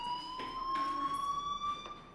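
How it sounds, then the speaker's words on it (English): In Life is Strange, a school fire alarm rings as a continuous steady electronic tone with a few faint rhythmic pulses over quiet room ambience. "do you hear that fire alarm? That means you should be outside."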